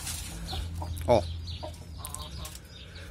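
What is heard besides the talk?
hen clucking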